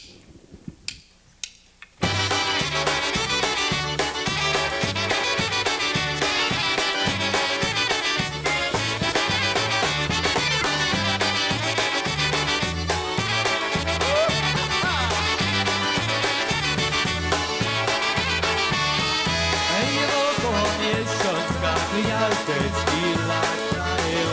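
A band launches into an upbeat polka with a bouncy oom-pah rhythm in the low brass under bright melody lines, steady and loud throughout.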